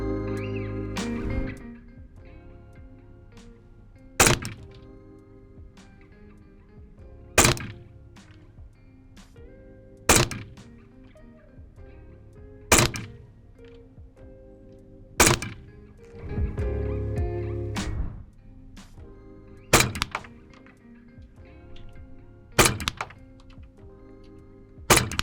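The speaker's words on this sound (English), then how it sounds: "We're shooting the replica straight out of the box, without the extension kit or tracer unit installed" A Krytac SilencerCo Maxim 9 replica pistol, straight out of the box, shooting at a target: sharp single thunks at roughly even intervals of a few seconds, crisp and close, with faint background noise between shots.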